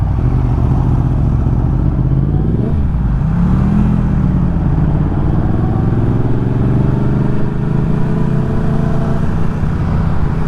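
Several street-fighter motorcycles, including a Yamaha MT-10, ride along a street close by. Their engines drone loud and continuous, with the pitch shifting as they rev and change speed.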